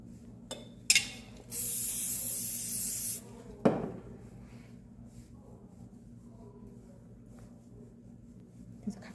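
Hairspray hisses onto hair during a salon updo styling session, one loud continuous burst of about two seconds, followed by quiet brushing and handling sounds.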